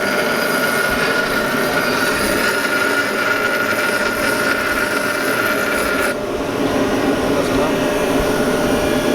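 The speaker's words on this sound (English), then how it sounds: "right now my dad's just grinding that little lip on the inside gear" A grinder works a small lip off an inside transmission gear for an O2J gearbox, giving a loud, continuous, steady whine that barely changes for the whole stretch.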